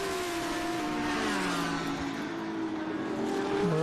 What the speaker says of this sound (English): But here comes your Lamborghini, about to start the roller coaster and come down for its last.